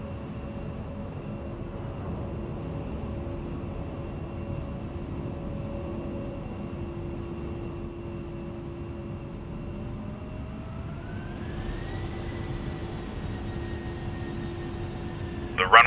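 A-10C jet in the DCS World flight simulator climbing after takeoff, its engines a steady whining drone whose pitch rises partway through, with a brief voice at the end.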